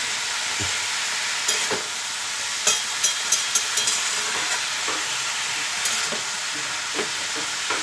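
Cauliflower stalk chachchari frying in a pan while being stirred, a loud continuous sizzle broken by repeated clinks and scrapes of the spoon against the pan.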